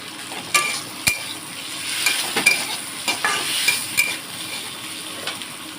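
Soybean curry with red masala fries in a pan, a steady sizzle broken by repeated sharp scrapes and clinks of a spoon stirring against the metal, close and without talk.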